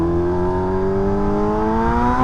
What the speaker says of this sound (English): That Super Duke do sound nice.